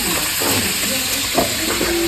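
Vegetables frying in oil in a kadai while making a Bengali-style paneer dish, with a constant close hiss and sizzle and a few faint clinks and tones on top.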